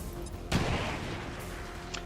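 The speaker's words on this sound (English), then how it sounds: "Let's do a grenade on him." A grenade goes off in XCOM 2 with one sudden, loud burst of blast noise, then a rumbling decay that fades over the following second and a half.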